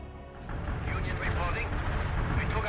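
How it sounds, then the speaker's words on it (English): An artillery barrage booms in the World in Conflict: Soviet Assault video game, a dense run of deep rumbling blasts that rolls continuously after a brief quieter start, loud and close. "nice triple barrage"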